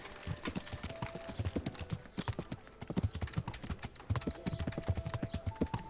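Rapid clip-clop of horse hooves trotting steadily in the video game Kingdom Come: Deliverance, with a soft hum of game music underneath and no talking.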